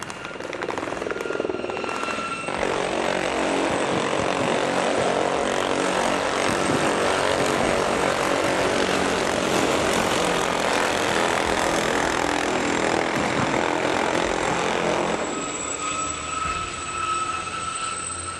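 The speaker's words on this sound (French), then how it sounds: "l'hélicoptère Gazelle, qui va vous survoler d'une minute à l'autre" A Gazelle military helicopter passes overhead during a French Army capabilities demonstration, a loud, steady rotor and turbine roar that swells in and holds for most of the stretch before easing off.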